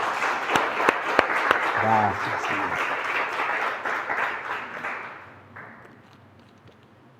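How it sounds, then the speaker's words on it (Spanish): A church congregation applauds, a crowd of dense clapping that swells and then fades out over several seconds, while a voice briefly speaks over it. "Le damos un aplauso al Señor."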